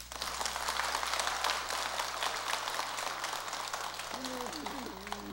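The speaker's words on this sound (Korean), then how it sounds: "박수 한번 칠까요?" Congregation clapping during a Sunday Buddhist dharma service at Jogyesa temple, a dense roomful of hands applauding steadily for several seconds before tapering off as a voice begins.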